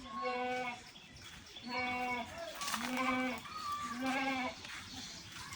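Goats bleat repeatedly in drawn-out, wavering calls, about five in a row, close and fairly loud with little else around.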